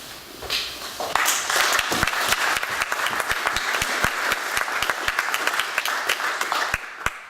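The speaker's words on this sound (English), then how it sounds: "He knows you guys are clapping" An audience claps after a poetry reading, a dense round of applause that builds within the first second, holds steady with sharp individual claps, and thins out toward the end.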